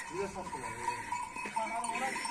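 Sheep bleat repeatedly in a village farmyard, with some cowbell clinks and nearby talking over the flock.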